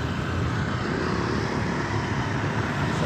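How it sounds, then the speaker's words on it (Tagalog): Motorcycles passing on a road, heard from a bicycle, a steady broadband engine roar sustained and fairly loud throughout. "So ayun may motor na dumaan, meron pang isa."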